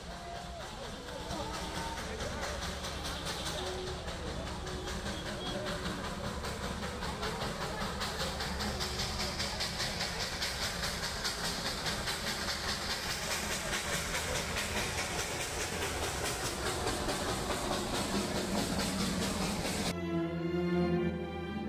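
A Darjeeling Himalayan Railway steam train arrives with a steady, loud mix of hissing steam and rolling rumble. The sound holds for about twenty seconds, then changes abruptly near the end.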